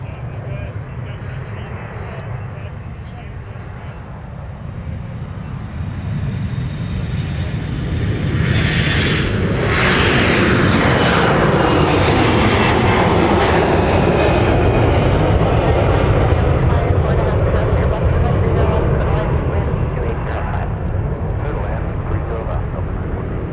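Jet airliners depart from MSP airport, one building to a loud, sustained roar that swells over several seconds and then slowly fades. Someone talks over it.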